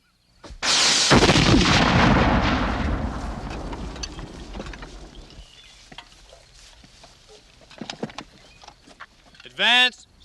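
A Civil War cannon fires a single loud boom that rolls away in a long, fading rumble, followed by faint clatter and a brief shouted voice near the end.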